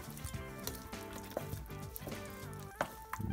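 Butter melting and sizzling in a pan for homemade apple pie filling, a soft continuous crackle with scattered pops and light stirring taps, heard alone and fairly faint.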